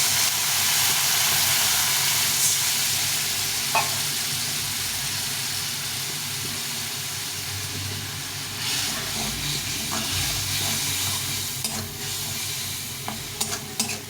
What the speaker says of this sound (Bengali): একটু হলুদ গুঁড়ো দিয়ে একটু জল দিয়ে দেবো দিয়ে এটাকে ভালো করে কষিয়ে নেব